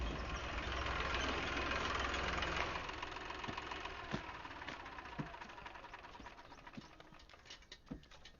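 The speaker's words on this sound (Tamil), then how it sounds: "இதோ வண்டி வந்துருச்சுங்கய்யா" A vehicle pulls up with its engine running, a steady broadband mechanical rumble that stays level and then eases slightly, with faint knocks and clicks scattered through it and no voices.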